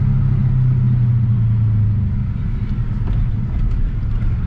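A manual Holden Commodore SS runs with a deep, steady, close-up idle rumble, loud and continuous, with a slight rise in engine note partway through and no talking.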